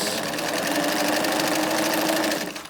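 A Singer Bobina Mágica 268 sewing machine runs a three-step zigzag stitch on fabric with a steady, loud, rapid mechanical whir and rattle that holds evenly, then winds down at the end.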